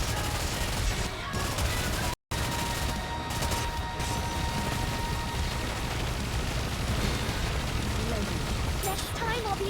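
Video game battle with dense, continuous gunfire and explosive bursts filling the whole stretch, loud and unbroken apart from one brief dropout near the start.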